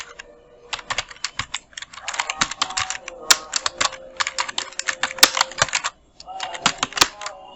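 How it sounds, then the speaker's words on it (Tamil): Rapid bursts of keystrokes on a computer keyboard during design work in CorelDRAW, close and fairly loud, clattering in quick runs with brief pauses between phrases. "இதை வந்து கூட நம்ம நார்மலாக நம்ம டைப் பண்ணிக்குவோம்."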